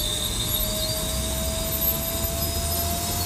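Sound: SubSonex jet aircraft engine throttling up on runway

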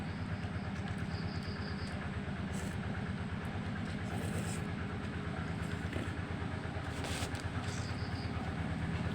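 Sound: tractor engine passing

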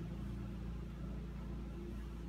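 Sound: tractor or lawnmower running outside

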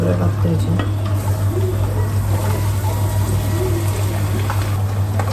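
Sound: jaggery and grated coconut being stirred in a hot pan

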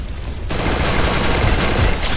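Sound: AWM sniper rifle gunshots in a video game

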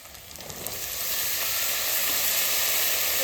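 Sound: garlic and onion frying in pan

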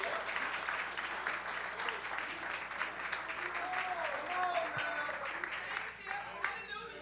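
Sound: congregation applause, hand clapping in church

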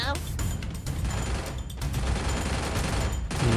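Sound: gunfire while jump-shooting in a video game

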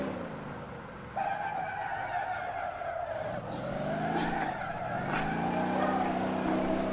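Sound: car drifting with tire skid, video game Motor Town

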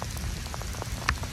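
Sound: rain falling while walking outdoors

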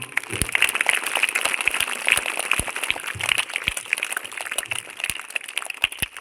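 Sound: applause for a boy's birthday at a school prayer assembly

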